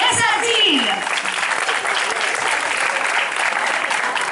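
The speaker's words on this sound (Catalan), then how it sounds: "un fort aplaudiment per a Elionor, Yolanda Hongria, un fort aplaudiment" An audience at a morning commemoration for 9 October breaks into loud, sustained applause, a dense wash of clapping that continues to the end, with a voice heard briefly at the start.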